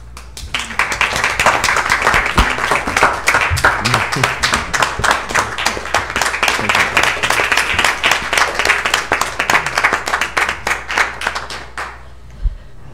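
A room full of attendees at a state board meeting claps steadily for about twelve seconds, dense even applause at close range that fades out at the end.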